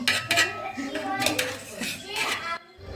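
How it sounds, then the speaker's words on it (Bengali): Dishes and cutlery clink and rattle as a shop-bought biryani pot is opened and served, metal knocks repeating irregularly under a voice and other chatter nearby. "দোকানের বিরিয়ানি হাড়ি কাটা হচ্ছেন"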